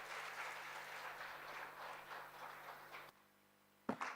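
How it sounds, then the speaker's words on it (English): An audience at a mental health forum gives a rapturous round of applause for a performance team, a steady, dense wash of clapping lasting about three seconds before it cuts off, followed by a brief thump. "Give a rapturous round of applause to our performance team and to Violetta Gorbachova from Nova Kakhovka"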